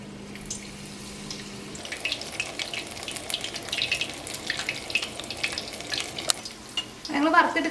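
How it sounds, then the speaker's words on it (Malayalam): Onion vada dropped one by one into hot oil over a medium flame give a soft, steady frying hiss, joined by light stirring and clinks, with a brief louder burst near the end. "ഓരോ വടയായിട്ട് ഈ ചൂടായ ഓയിലിലേക്ക് ഇടുക."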